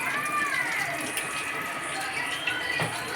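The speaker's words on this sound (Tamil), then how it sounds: "தண்ணி கொதிச்சிருச்சு." Steady bubbling and rushing of water with a little oil boiling in a pot, ready for rice, continuous and moderately loud throughout.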